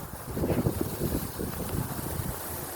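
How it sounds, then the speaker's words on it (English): Gusty wind of about 15 to 20 miles per hour buffeting the microphone outdoors in a park, a steady rushing roar with stronger puffs, no talking. "15 to 20 mile an hour wind gust going on."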